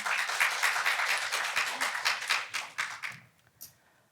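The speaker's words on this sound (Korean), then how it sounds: "다시 한번 큰 박수 부탁드립니다" Audience applause at an HRD contest finals presentation, a burst of rhythmic clapping that thins into a few scattered claps and fades out within seconds.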